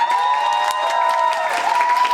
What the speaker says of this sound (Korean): 회장님을 박수로 모셔볼까요?